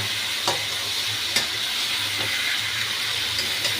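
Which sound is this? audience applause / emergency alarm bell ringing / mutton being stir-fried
mutton being stir-fried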